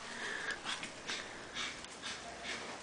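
A puppy breathes hard outdoors after running, making quick, raspy, sniffling pants in a steady rhythm, soft and close against a hushed background.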